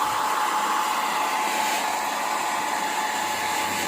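A hair dryer blows air onto eyeglasses while they are cleaned, giving a steady, loud, unbroken whine and rush of air close by with no talking.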